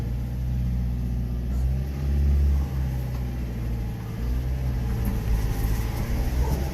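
A John Deere minitruck in two-wheel drive backs out in reverse on gravel. Its small engine revs and rumbles close by, rising to a louder surge in the middle and then settling into an uneven hum.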